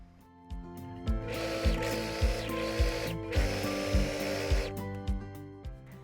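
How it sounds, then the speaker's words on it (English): A serger finishes and trims seam allowances on a garment, its motor whirring in bursts with rhythmic mechanical thumps, starting and stopping close by. "I am going to choose to serge, which will also include trimming at the same time"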